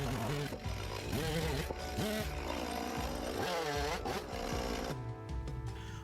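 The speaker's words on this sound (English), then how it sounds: "the best tool I have for this is the chainsaw" A chainsaw whines and bogs as it cuts through wooden floor joist posts, its engine pitch rising and dropping continuously, loud and close throughout.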